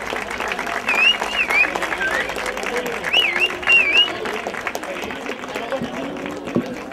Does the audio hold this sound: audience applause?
yes